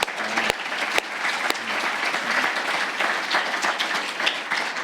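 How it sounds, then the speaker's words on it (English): Audience applause fills a conference welcome session, a steady wash of many hands clapping at moderate volume, with a few sharper individual claps standing out early on. "So let's give them a very big round of applause here."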